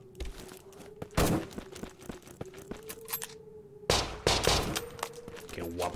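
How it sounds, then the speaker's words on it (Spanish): Machine gun firing in the survival horror video game Conscript: rapid bursts of sharp, loud shots in two clusters separated by a short pause, over a low sustained background tone. "Otra ametralladora."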